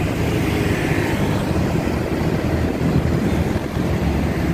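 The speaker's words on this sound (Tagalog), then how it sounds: "nagkararahan na yung mga motor" Motorcycles riding in heavy traffic on Visayas Avenue: a continuous broadband engine and road roar, loud and steady throughout, with no talk over it.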